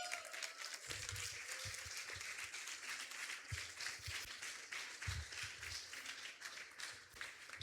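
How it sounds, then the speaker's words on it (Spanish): A church congregation breaks into applause during a sermon, a faint, steady wash of clapping heard from a distance across the room. "Dale un fuerte aplauso al Señor."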